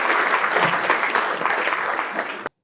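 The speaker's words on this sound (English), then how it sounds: "Give me a round of applause" Applause from a live audience at a business talk event, dense steady clapping that fills the space at close range and then cuts off abruptly.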